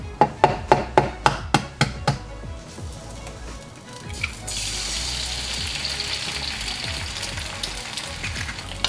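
An egg cracked onto oil in a non-stick frying pan over a lowered flame: a quick series of sharp taps, then a steady, close, bright hiss of frying that holds on without talk.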